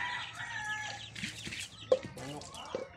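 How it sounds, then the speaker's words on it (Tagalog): Soft chicken clucks and murmurs come and go, with a sharper cluck near the middle, against a quiet background. "Manok."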